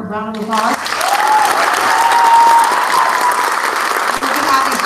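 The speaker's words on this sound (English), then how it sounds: "Can we give him another round of applause?" Audience applause at a Cesar Chavez Day event, a dense sustained wash of clapping from a large crowd that follows a brief spoken voice at the start and continues steadily at full volume, with faint vocal tones threading through.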